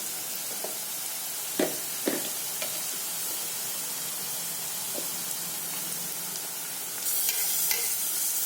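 Garlic paste and onions sizzle steadily in a hot pan while preparing a rohu fish curry with coconut, a constant close frying hiss broken by a few spoon clinks and stirring scrapes, the sizzle flaring louder near the end.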